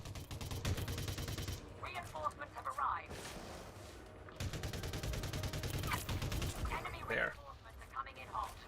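Ship weapons in Elite Dangerous firing in rapid automatic bursts, rattling volleys that stop and start in several runs, loud and close with someone speaking between them.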